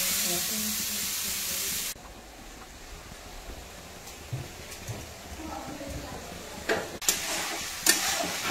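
Chicken skin fries in oil, starting with a strong hiss that settles into a quieter, steady sizzle broken by a few sharp pops and clicks near the end.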